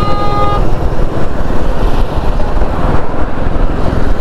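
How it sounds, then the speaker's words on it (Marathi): A vehicle horn honks loudly on a road, with a sharp tonal blast at the start over heavy, continuous traffic and engine rumble heard close up, as from a motorcycle. "एवढा भयंकर हॉर्न देतोय."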